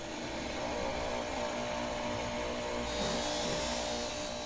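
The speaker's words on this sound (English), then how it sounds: "So again, here just basically polishing until it gets hot, dipping it, and polishing it some more." A stainless steel signet ring is pressed against a polishing machine, producing a continuous loud whirring motor drone with a steady gritty grinding texture that shifts slightly partway through.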